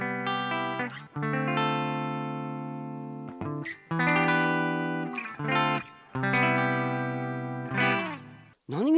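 Sustained electric guitar chords through a Quilter OverDrive 202 amplifier's reverb ring out with a lush tail, notes blooming and decaying between strums, loud and alone without any voice.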